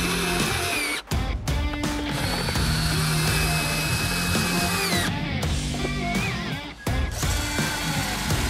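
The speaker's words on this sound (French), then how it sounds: "Voilà, donc je visse avec des panneaux et ensuite, ça va être vissé au plafond." A power drill drives screws into wooden panels being fixed to a ceiling, giving loud bursts of whirring and ratcheting with short pauses between screws, close up and without talk.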